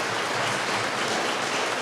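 A crowd applauds at an award gala after a Pacific fusion fashion show, a steady, fairly loud wash of many hands clapping together without a break.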